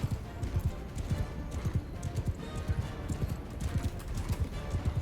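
Horse hooves clip-clop in a steady, rhythmic trot in the video game Mount & Blade II: Bannerlord, close and clear, with a constant ambient backdrop and no talking.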